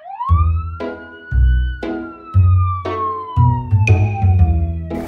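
Video game police siren wails in repeated rising and falling sweeps over about five seconds, loud and close, layered with a shorter second siren tone near the end and no talking.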